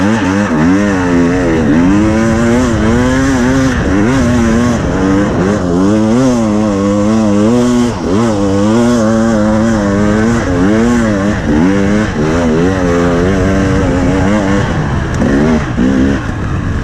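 A 2021 KTM 300 TPI two-stroke dirt bike being ridden, its engine loud and close, revving up and down continuously in wavering surges throughout.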